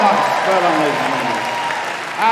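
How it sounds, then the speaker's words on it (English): Arena audience at an RAF Police Dog Display Team show cheering and clapping for a dog, a loud steady roar of cheers and applause with an announcer's voice over it. "Everybody on this side of the arena, you're going to give a big cheer for Ninja."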